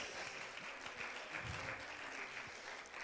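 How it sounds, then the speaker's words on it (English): A church congregation claps in praise during a service, a soft, far-off continuous patter of many hands with a faint low murmur underneath, quiet overall. "give him a hand clap of praise"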